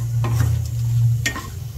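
Dried red chili fried in hot oil for a wedding-style vatha kuzhambu, giving a steady close sizzle with a few stirring scrapes and short crackling bursts, no talk.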